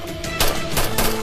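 Gunfire in a TV drama, three or four sharp bursts of shots in quick succession over a tense background score, loud and close.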